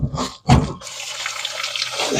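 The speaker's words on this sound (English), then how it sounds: "Drain all the water out of the fresh water tank." Water rushes out of the opened fresh water tank drain valve on an Open Range 371MBH RV during winterization, a couple of knocks followed by a steady, close hissing gush.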